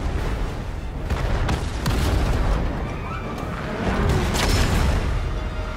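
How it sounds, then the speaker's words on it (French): Explosions in the Fortnite video game rumble and boom in overlapping waves, loud and sustained, with debris-like crackles and bursts surging several times over about six seconds. "tout explose"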